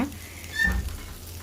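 Six pieces of korameenu fish fry in a pan with a steady, close sizzle that swells briefly midway through the short stretch.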